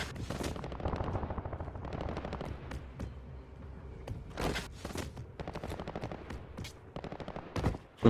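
AK rifle gunfire in the video game Call of Duty Warzone Mobile, with rapid automatic bursts and fusillades repeating throughout, loud and close, broken by brief gaps and sharper single shots.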